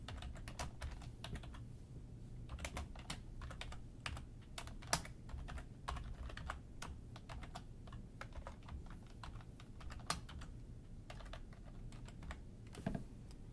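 A return address typed on a computer keyboard, with quiet, close clicking keystrokes in irregular bursts and short pauses, steady and soft throughout.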